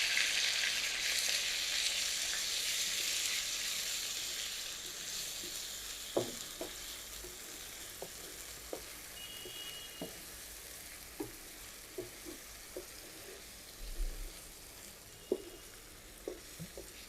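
Ground onion paste fries in a pan with a steady, broad sizzle, punctuated by occasional soft clicks and taps of a spoon against the pan; no one speaks.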